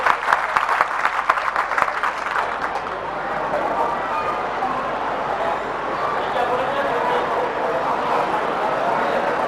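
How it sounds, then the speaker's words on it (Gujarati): A hall full of people claps loudly after a lamp-lighting ceremony at a family community gathering, sharp individual claps at first merging into a sustained, dense roar of applause. "આપણે સૌ તાળીઓના જોરદાર ગડગડાટથી તેને વધાવીએ."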